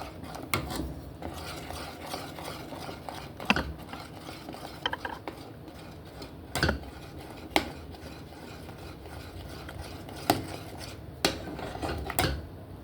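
Condensed milk being stirred into Jamaican oats porridge in a pot, giving soft repeated scraping and clinking of a spoon against the pot, close up, with sharper knocks scattered through.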